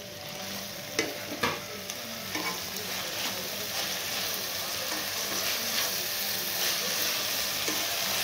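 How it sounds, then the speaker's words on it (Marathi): Tomatoes dropped into a pan of vegetables and rice with the flame just turned off, giving a steady close sizzle and a few soft stirring knocks, with no talk. "आता आपण हे टोमॅटो याच्यामध्ये टाकून घेऊ."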